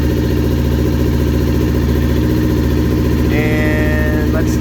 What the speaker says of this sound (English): let's check out this cool sounding motor. Parallel twin